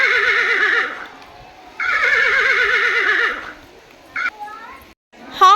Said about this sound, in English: Gallop like a horse.